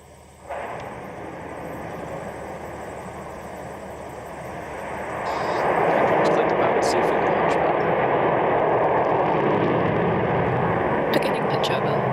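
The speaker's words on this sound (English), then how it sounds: "Liftoff." Rocket Lab rocket lifting off, a loud, broad roar that begins abruptly and swells stronger midway, rumbling on steadily to the end.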